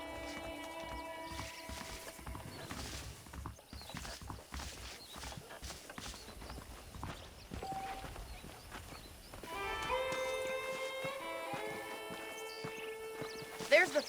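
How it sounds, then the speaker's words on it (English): Horses clip-clop and neigh in the western video game Red Dead Redemption, hooves steady under ongoing talk, with musical tones rising toward the end. "The horses are saddled up over here."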